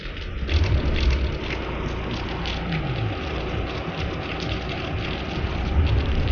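Light rain falls in a foggy mountain valley at Lachung in North Sikkim, making a steady wash of patter with low rumbling underneath and no voices.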